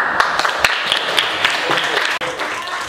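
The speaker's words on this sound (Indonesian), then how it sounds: "Kasih tepuk tangan dong." Clapping from a small classroom group, uneven claps scattered over a busy room murmur, with voices mixed in.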